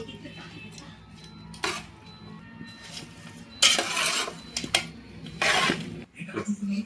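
Salted biryani being mixed in a cooking pot, with scraping and clinking of a utensil against metal in several bursts, some louder and close, over a faint background hum.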